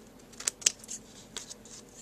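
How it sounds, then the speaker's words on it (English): Scissors snip through paper card for a butterfly card project, making a few crisp, close cuts with short pauses between them, set against a quiet room. "Give that a little snip"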